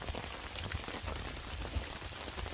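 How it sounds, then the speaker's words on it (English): Steady rain pattering on a tarp overhead at a snowy winter hammock campsite in freezing rain, a dense continuous hiss with scattered louder drops close by. "You hear the rain hitting the tarp?"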